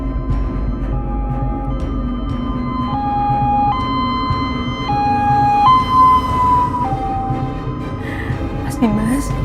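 An ambulance siren wails in steady, stepping tones over a continuous background din on a street called Jalan Jambu.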